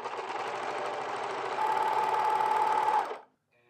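A sewing machine runs steadily while finishing the raw edges of denim jean pant legs, a close continuous whirring hum with a slight rise in pitch near the end before it stops abruptly.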